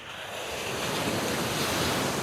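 Ocean surf and wind on a St. Lucia beach in front of cottages make a continuous wash of breaking waves and gusting air, steady and fairly loud, with no voices.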